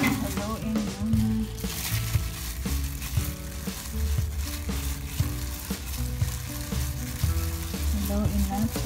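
Ginger and onion sizzling and being stirred in a hot pan while cooking roast chicken, a steady crackling fry with scraping stirring strokes, close and continuous, with background music playing.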